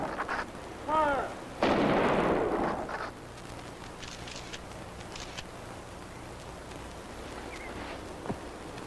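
A rifle volley fires a funeral salute on a street, in a TV drama scene. A shouted command comes first, then a loud, rolling blast, followed by quieter ambience and a faint later crack.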